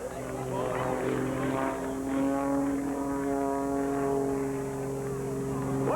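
A Bulldog propeller aerobatic airplane flies air show maneuvers, pushing over the top and doing slow rolls; its steady engine drone and rising, falling propeller harmonics carry on throughout under a commentator's talk.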